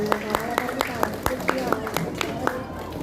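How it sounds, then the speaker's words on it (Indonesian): At a Quran completion celebration held by a children's Quran school, a group claps in a steady rhythm of sharp, evenly spaced beats, about ten of them, with voices murmuring underneath. "Tepuk tangannya semuanya"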